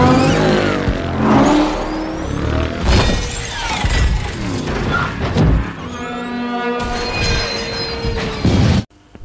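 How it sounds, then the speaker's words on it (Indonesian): Race cars roaring off at the start of a race in the film Ready Player One, loud engines revving and whirring past amid crashing and shattering effects, dense and close before cutting out abruptly. "Z mengeluarkan mobilnya, balapan akhirnya dimulai"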